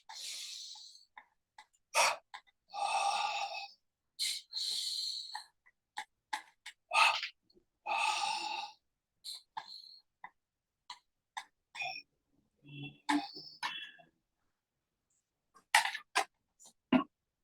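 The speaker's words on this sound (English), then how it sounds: "do a few rounds, 3 rounds of double breathing, tensing the body," Breaths drawn in and pushed out in a seated double-breathing exercise that tenses and relaxes the body, heard as a series of short, close, rhythmic puffs and sniffs with pauses between rounds.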